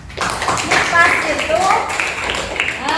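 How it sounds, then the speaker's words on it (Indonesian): A short burst of clapping from a small group of students in a classroom, mixed with lively voices talking over it. "ayo tepuk tangan"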